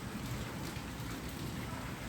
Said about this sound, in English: Nowadays it's raining a lot in my country, so I thought let's show you this.